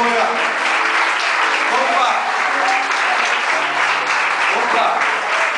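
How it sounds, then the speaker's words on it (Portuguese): A church congregation applauds steadily throughout, a dense, continuous wash of clapping at even loudness, with voices faintly mixed in beneath it. "Aplauda o Senhor"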